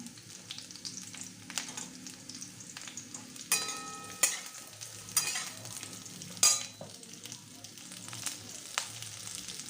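Ridge gourd pieces frying in a pan, a soft steady sizzle with a few sharper metallic scrapes and clinks as it is stirred, fairly quiet and without talk.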